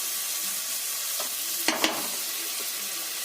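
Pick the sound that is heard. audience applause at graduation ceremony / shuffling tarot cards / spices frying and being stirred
spices frying and being stirred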